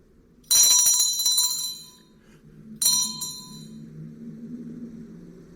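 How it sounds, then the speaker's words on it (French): A small hand bell rings in two bright, shaking bursts, the first lasting about a second and a half and the second shorter, heard close up over a low room murmur. "Et ma sonnette ne fait pas assez de bruit."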